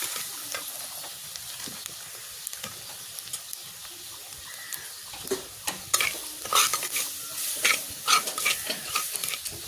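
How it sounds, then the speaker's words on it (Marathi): Gram flour (besan) and ground masala paste with garlic roasting in a pan, with scraping stir strokes in an irregular rhythm that grows busier and louder over a soft frying hiss. No one speaks. "आता हा जो वाटण केलेला मसाला आहे तोही या पिठामध्ये पीठ लसूण फोडणीमध्ये"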